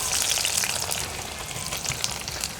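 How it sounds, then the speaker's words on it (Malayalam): Dense crackling sizzle of potato strips frying as French fries in hot coconut oil, bubbling steadily and fairly loud with no talking. "നല്ല കിലുകില നാദം കേട്ടോ"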